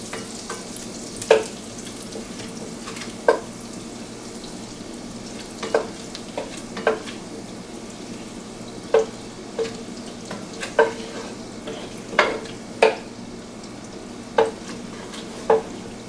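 Half a stick of butter melts in a pan over low heat with a soft, steady sizzle, broken by about a dozen sharp scrapes and clinks of stirring.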